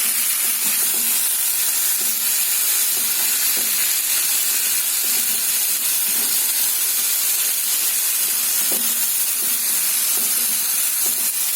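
Brown rice stirred into a hot pan of oil or ghee gives a steady, close sizzling hiss throughout, with faint scraping taps from the mixing.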